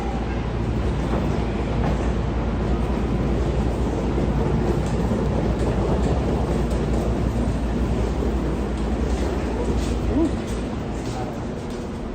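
A subway train rumbling through a hot New York station, a loud, steady low roar with rail noise running throughout, no clear breaks.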